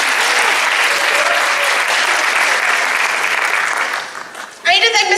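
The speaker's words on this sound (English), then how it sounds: "So give them a round of applause, please." Audience applause, a dense, loud burst of clapping that holds steady for about four seconds, then fades before a voice speaks at the end.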